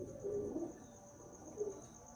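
Breeder pigeons give soft low cooing in two short bursts, faint and slightly distant, over a steady background hum with no talking.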